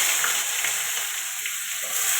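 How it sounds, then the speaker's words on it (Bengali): Onion frying in hot oil with bay leaf and panch phoron for a fish curry with brinjal, potato and bori makes a loud, dense, unbroken sizzle that stays close and even throughout. "তেজপাতা দিয়ে দিলাম ফোড়নে, পাঁচ ফোড়ন দিয়ে দিলাম, পেঁয়াজ দিয়ে দিলাম।"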